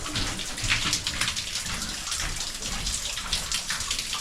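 Water drips and runs inside the Gold Bug Mine, a gold mine in Placerville, California, making a dense splashing patter like rain on hard surfaces, steady and close with no talk.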